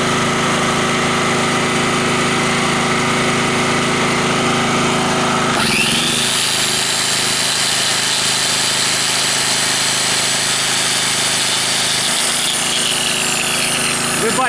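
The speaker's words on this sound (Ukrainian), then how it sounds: "Але ми підключаємо шліфмашину, тут щіточний двигун і, звісно, є пускові струми." An angle grinder with a brushed motor spins up while powered from a GENERGY portable generator, its high whine joining the steady engine drone midway and running loud and continuous to the end.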